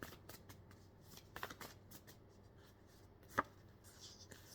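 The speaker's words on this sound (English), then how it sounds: "I'm gonna pull some more cards." Tarot cards are shuffled and drawn by hand, giving soft, close riffling and rapid flicking sounds with brief taps and one sharper snap, fairly faint throughout.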